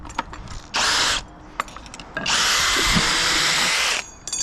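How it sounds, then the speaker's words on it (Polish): Cordless drill/driver backing screws out of concrete formwork on a building site: two loud whirring bursts, a short one then a longer sustained run, with small knocks and clicks between. "do wykręcania używamy wkrętarki zwykłej"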